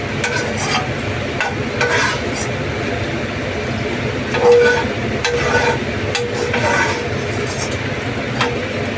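Eggs frying in oil for Bhapa Dimer Kalia, a steady low sizzle with occasional stirring and utensil scrapes, close and continuous throughout.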